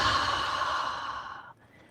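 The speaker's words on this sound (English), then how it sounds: "Take a deep breath in and exhale." A long, deep breathy exhale during yoga breathing practice, close and fairly loud, fading out after about a second and a half.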